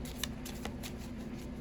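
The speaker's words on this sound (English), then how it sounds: "you shuffle the cards" Playing cards being shuffled by hand during a magic trick, with a few crisp riffling bursts over a steady low hum, close and without speech.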